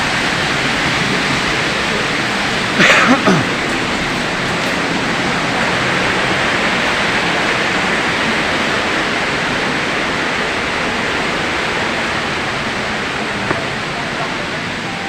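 Twin Falls waterfall roaring steadily nearby as a loud, unbroken broadband rush for the whole stretch, with a brief knock or clatter early on.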